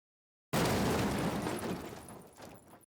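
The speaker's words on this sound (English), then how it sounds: "A really diverse, complex sound like this makes for wonderful sub-booms." A deep sub-boom drum hit, made from a complex sample with the highs cut hard, lands abruptly after silence as one loud, close blast, then rumbles and decays over about two seconds before cutting off.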